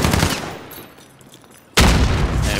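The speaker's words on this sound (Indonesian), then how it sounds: "Rupanya Boris Blair kena tembak lah sini." Bursts of gunfire in the battle game PUBG during a search-and-destroy match at a port harbour map, a loud volley fading off, then another sharp barrage starting abruptly.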